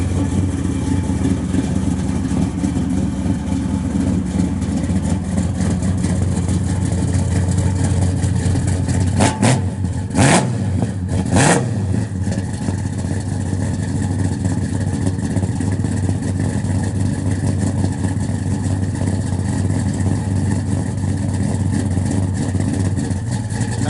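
A 1972 Chevrolet Chevelle SS with a 496 stroker engine runs on pump gas at a loud, steady, deep idle, with a brief burst of sharp revving near the middle before it settles back into the rumble.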